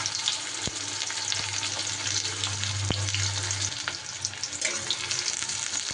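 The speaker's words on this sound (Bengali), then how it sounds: "এবার বেরেস্তা ভেজে নেব।" Thinly sliced onions frying in very hot oil for a Bengali dish, a steady continuous sizzle with occasional stirring clinks, close and even throughout, with no voices.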